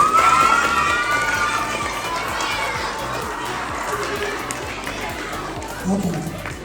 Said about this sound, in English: we do want to give her a round of applause